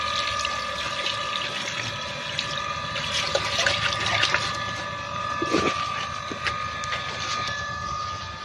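Tap water pours steadily from a faucet while fresh jujube fruit is washed beneath it, a continuous close splashing rush with a few small knocks.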